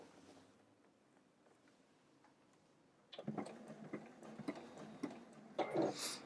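A sewing machine stitching a short burst of locking stitches on quilt binding for hexagon and octagon shapes, a quiet pause and then a near, rapid mechanical clatter for about three seconds.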